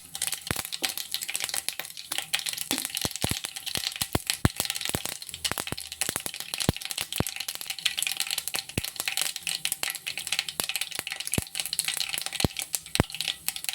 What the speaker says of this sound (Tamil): கடுகு வந்து நல்லா வெடிக்கணும்.